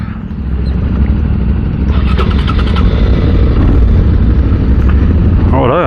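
Motorcycle engine idling steadily and close by before a ride on a bike with a new chain, sprockets and cush drive rubbers, with a brief burst of clatter partway through and faint voices underneath.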